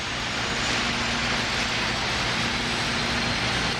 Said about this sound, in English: each of the SR's huge power plants requires a jump start from two 454 cubic inch Chevy engines